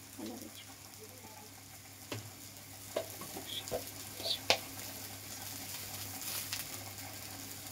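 Eggplant frying in a pan, giving a soft continuous sizzle broken by a few sharp spattering pops and stirring clinks, close and moderately quiet.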